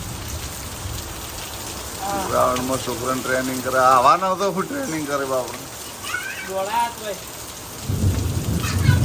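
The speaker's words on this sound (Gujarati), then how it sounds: "વરસાદ ચાલુ થઈ ગયો હો" Heavy rain pours down in a loud, steady hiss while someone talks over it, with a deeper rumble swelling near the end.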